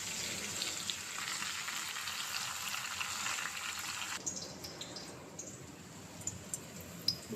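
Nigella seeds and dried red chilli frying in oil over a gas flame give a steady soft sizzle that drops in level partway through, with a few small crackles near the end.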